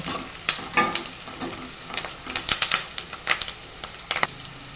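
Drumstick dal being stirred in a pot on the stove, with a spoon scraping and clinking in irregular bursts over a soft, steady sizzle, close and moderately loud.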